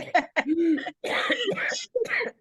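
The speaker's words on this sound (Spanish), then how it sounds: "ya tengo tos" Several harsh coughs in quick succession, close and fairly loud, with short pauses between bursts and no talking.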